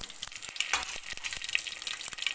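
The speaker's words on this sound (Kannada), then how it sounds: "ಇವಾಗ ಎಣ್ಣೆ ಕಾದಿದೆ ಸಾಸಿವೆ ಹಾಕೋತಾ ಇದ್ದೀನಿ ಇದಕ್ಕೆ ಒಣಮೆಣ್ಸಿಕಾಯಿ ಮತ್ತು ಕರ್ಬೇವು ಹಾಕೋತಾ ಇದ್ದೀನಿ ಸ್ವಲ್ಪ ಫ್ರೈ ಮಾಡ್ಕೋತಾ ಇದ್ದೀನಿ" Mustard seeds, dried chillies and curry leaves frying in hot oil, a steady bright crackling sizzle dotted with small pops and spatters, close and continuous with no voices.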